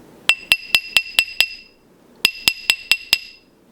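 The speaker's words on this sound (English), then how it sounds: "I'll check it on my calibrated mandrel." A metal stacker ring is tapped on a calibrated ring mandrel in two quick runs of six sharp, ringing metallic clinks, separated by a short pause.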